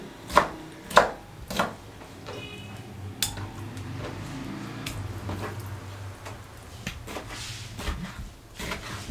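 A knife cuts beef liver into pieces on a board, with several sharp chopping knocks early on, then softer intermittent cuts and light handling sounds.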